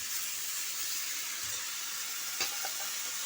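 Mushrooms stir-fry in a pan with a soft, steady sizzle and hiss, with a few faint scraping stirs near the end; quiet and close, no talking.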